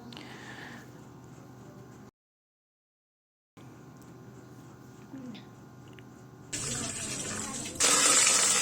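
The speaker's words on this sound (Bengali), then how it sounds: "প্রথমে সুন্দরভাবে গোস্তটাকে ধুয়ে নিচ্ছি" Tap water runs and splashes into a sink while raw beef is washed, broken by a brief gap and then a louder gushing stream near the end.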